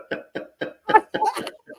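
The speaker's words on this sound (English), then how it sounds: "Let me cough at you." A man gives a string of rhythmic coughs close to the microphone, several evenly spaced hacks followed by a rougher, throaty burst, alone without other talk.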